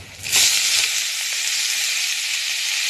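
Bathua greens hit hot oil in a pan, setting off a loud, sudden burst of broadband sizzling that stays steady and hissing for several seconds, with no voices.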